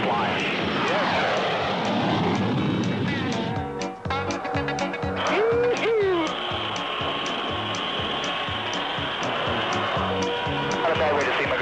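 Blue Angels jet engines roar continuously at high power during a takeoff roll, a loud broad rushing drone with rising whine and rhythmic thumping, as people talk briefly over it.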